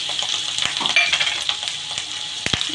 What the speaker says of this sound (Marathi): आता तेल पण तापलेलं आहे लसूण टाकला जिरे आणि मोहरी हळद पण मी टाकली